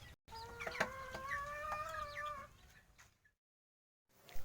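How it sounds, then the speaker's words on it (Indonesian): Chickens clucking and calling on a farm, several birds giving overlapping rising cackles close by for a few seconds before a brief silence, then a faint start of another sound. "Ayam."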